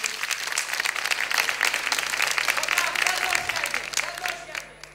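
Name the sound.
studio audience applause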